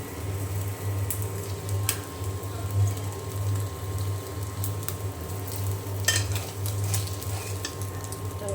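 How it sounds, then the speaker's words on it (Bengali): An egg with its yolk frying in a pan, a soft steady sizzle under a low hum, with occasional sharp clicks and scrapes of a utensil against the pan. "খুব ভালো করে কুসুমটা ভেজে নেব"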